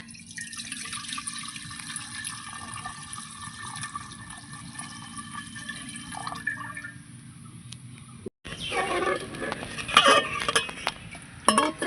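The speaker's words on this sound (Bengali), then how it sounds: "এই গরুর দুধটা দিয়ে দেবো এর মধ্যে" Cow's milk poured into a cooking pot as a steady liquid stream, followed by louder splashing and metallic clinks of the pot near the end.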